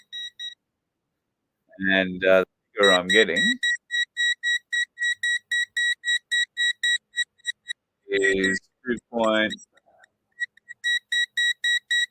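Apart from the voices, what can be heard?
annoying electronic beeping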